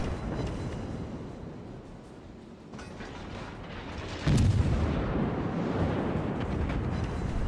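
Naval guns on a warship firing HE shells in a naval combat game, a heavy boom breaking over a constant low rumble of battle noise, followed by sustained roaring.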